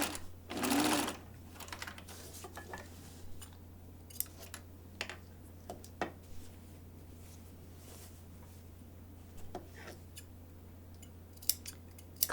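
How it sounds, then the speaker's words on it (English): Scissors make scattered, faint snips while clipping the seam allowance of a sewn sleeve, heard close over a steady low hum. "Clipping the seam allowance."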